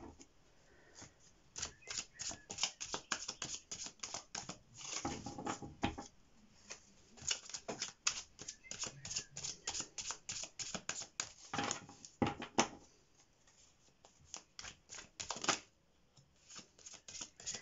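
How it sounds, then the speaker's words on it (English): Tarot cards being shuffled by hand, a fast papery riffle of bursts and flicks close to the microphone with short pauses between passes, quiet and with no talking. "we'll give it one more shuffle"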